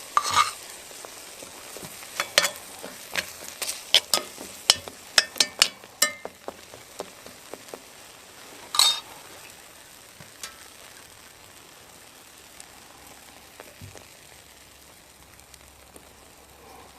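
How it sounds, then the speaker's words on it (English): Omelette cooking in a pan outdoors in the woods, with a burst of irregular scraping clicks as it is stirred, then a faint, quiet sizzle that settles into near stillness. "I'm cooking an omelette in the woods"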